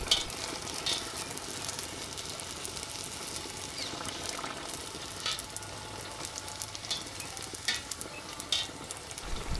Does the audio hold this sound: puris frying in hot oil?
yes